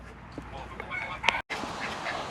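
Domestic ducks and geese at a smallholding enclosure honk and quack in a few short, moderately close calls over a low background, with one brief cut in the sound.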